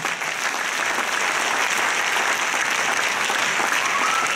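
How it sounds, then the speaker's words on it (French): A church audience in Congo applauds, sustained and even clapping from a large crowd that holds at a steady loud level without pause, with a faint murmur of voices underneath. "Vous pouvez acclamer pour elle"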